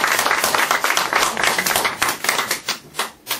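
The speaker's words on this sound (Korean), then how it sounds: "여러분, 여기에서 우리는 다시 한번 박수를 보내주시기 바랍니다." Lecture audience in a hall applauding, loud dense clapping from many hands that thins out toward the end into a few scattered, distinct claps.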